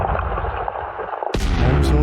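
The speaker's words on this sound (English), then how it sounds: "Detonation in 10 seconds." A loud, sharp mining detonation blast in the space game Elite Dangerous breaks in abruptly after a steady low rumble, followed by a sustained roaring burst with no voice over it.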